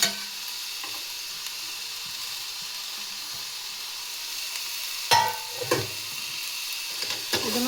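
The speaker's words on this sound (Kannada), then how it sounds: "ಸೊ ಇದನ್ನು ಚೆನ್ನಾಗಿ ಫ್ರೈ ಮಾಡ್ಕೊಳ್ಳಿ." Onions with grated coconut fry in a pan for a drumstick sambar, giving a steady moderate sizzle broken by a couple of sharp clanks and scrapes of a spoon on the pan.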